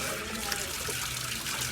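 Water splashes and trickles steadily during a pet's bath, a soft continuous wash of liquid noise heard close up with faint background sounds.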